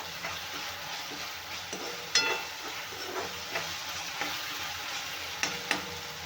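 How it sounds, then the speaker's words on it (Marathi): Green chillies frying in oil in a home kitchen while making a winter mustard-greens dry vegetable, a steady soft sizzle with occasional stirring clatters and sharp spoon taps against the pan, no talking. "मिरची पण मी तेलामध्ये व्यवस्थित भाजून घेतले"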